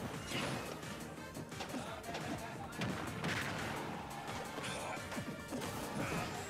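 A sticky bomb goes off during a Super Smash Bros. Ultimate match, one of a dense stream of sharp crashing hits and blasts amid busy, loud fighting-game sound effects.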